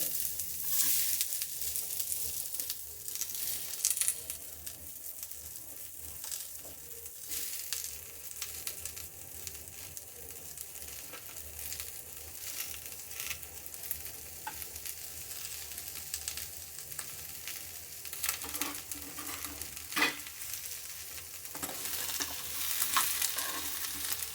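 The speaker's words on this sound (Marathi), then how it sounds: "त्यानंतर एका पॅनमध्ये सर्व चिरलेले कांदे भाजून घ्यायचे।" Chopped onions frying in a pan, a continuous sizzle with stirring scrapes and clinks scattered through, steady and close at moderate volume with a few louder bursts.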